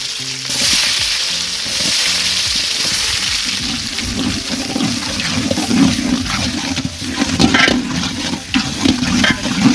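Chopped onions hit hot oil with a loud, continuous sizzle and crackle, stirred occasionally, close up throughout, while cooking a seafood gravy.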